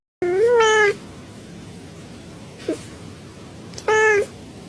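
Two loud, close meows from the cat suit in the video game Super Mario 3D World, one at the start and one near the end, with a faint blip between them over a quiet game background.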